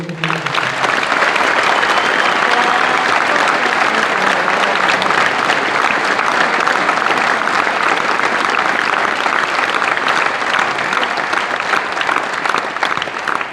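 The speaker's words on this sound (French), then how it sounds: "je voudrais qu'on vous applaudisse" An audience at a charity cheque presentation in Toul applauds warmly, a dense, sustained, even round of clapping filling the whole stretch at full volume.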